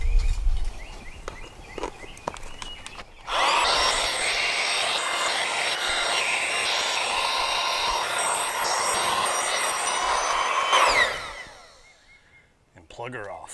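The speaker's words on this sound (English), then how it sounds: "Let's start cranking some air inside there." A pump drives air into a truck in a loud, steady whooshing roar that runs for about seven seconds before dying away, with quieter handling noises before and after.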